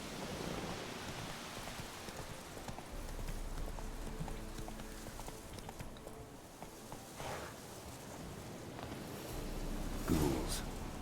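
A horse gallops through the Velen wetlands in The Witcher 3, its hooves clip-clopping steadily under a broad wash of rain-like ambient noise.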